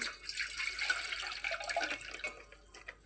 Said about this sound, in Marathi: एक घेतले पातेलं, त्याच्यात किंचित पाणी ठेवलंय, त्याच्यात टाकूया दूध